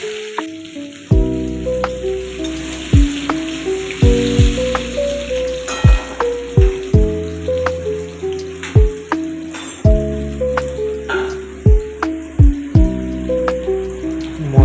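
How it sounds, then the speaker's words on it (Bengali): Chopped tomatoes frying in a pan for vegetarian chowmein give a loud, steady sizzle broken by a regular run of sharp, ringing metal clanks from a spatula against the pan. "তারপরে বিলাতি কুচোগুলো দিয়ে দিলাম এবারে এগুলিকে একটু ভেজে নেব"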